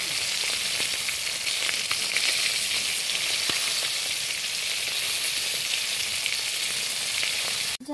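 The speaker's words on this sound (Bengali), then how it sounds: "প্রথমে মাছ ভাজাটা বসিয়ে দিয়েছি" Fish fries in oil on a clay stove, giving a steady, close, hissing sizzle that holds at an even level throughout before a brief knock at the very end.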